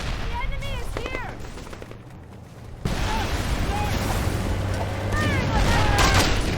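Gunfire aimed at a tank in the video game Mercenaries 2, with rapid bursts and booms amid battlefield noise. Game voices shout over the shooting, which grows louder and denser after a sudden rise.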